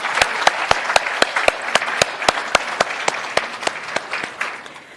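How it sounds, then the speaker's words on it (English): An audience at a merit ceremony claps in a steady burst of applause with sharp, rhythmic slaps standing out, continuing for several seconds before tapering. "Can I also ask you that we give a special round of applause to Emma for joining us today?"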